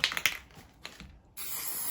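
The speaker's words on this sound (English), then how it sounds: "I usually don't spray paint fast like this," Short metallic rattles of a shaken spray paint can, a pause, then a steady close hiss of paint being sprayed onto a basket.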